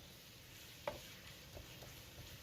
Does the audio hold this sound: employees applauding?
no